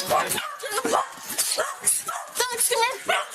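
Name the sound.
dog barking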